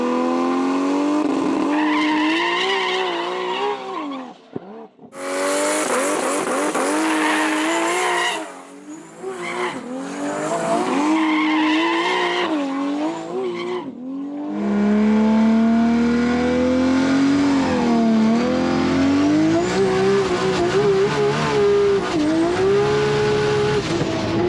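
2000hp-plus Nissan GT-R race cars run down Cootamundra Airport's runway, engines roaring loud and continuous, rising and falling through hard revs and gear changes, with tire squeal and a brief dip between runs.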